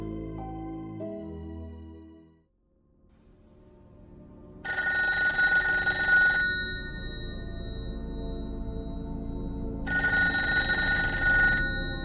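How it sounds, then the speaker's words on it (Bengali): Two bursts of an old-style telephone bell ring clearly in a quiet room, each lasting about two seconds with a pause between, following a soft low rustle at the start. "টেলিফোনের রিংয়ের শব্দে কাগজ থেকে চোখ ফেরালো অভিজিৎ"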